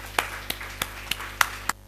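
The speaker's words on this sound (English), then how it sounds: "Please give a warm round of applause for the presenter." Six sparse, separate claps spaced about a third of a second apart, fairly close and crisp, greet a presenter at a health ministry product presentation, with no voices heard.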